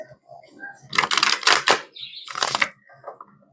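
Papery riffling and flapping of a tarot deck being shuffled in two quick bursts, close up, with faint bits of voice around them.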